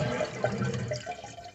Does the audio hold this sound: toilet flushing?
yes